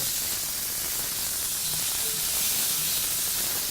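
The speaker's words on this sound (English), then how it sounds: "we've got a sizzle on our griddle" Chicken breasts sizzle on a hot Weber Spirit II griddle, a steady bright hiss of frying that holds evenly throughout with no pauses or talk.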